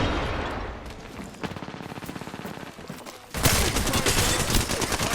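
Gunfire in a shooter video game amid a firefight with grenades and shields: rapid bursts of automatic shots crackle for several seconds, then a louder, denser volley of fire takes over near the end, with no talk.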